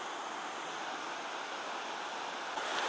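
The waterfall at Wawa Dam gives a steady, dense rushing roar of falling water, close and constant, with no break or voices.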